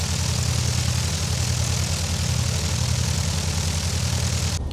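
A Cessna 172 SP in the X-Plane 11 flight simulator idles while taxiing, its propeller engine a steady, loud low drone that holds throughout and cuts off abruptly at the end.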